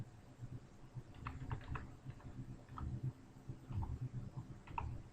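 Quiet keystrokes on a computer keyboard as a word is typed into a form title field, a loose run of soft clicks over low background hum.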